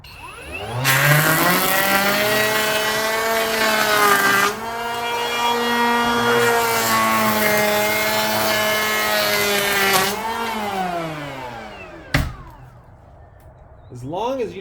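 A Kobalt 24V cordless electric planer with freshly swapped sharp blades shaves wood in two long, loud passes. The motor whine rises and falls, and a sharp knock and a brief spin-down follow.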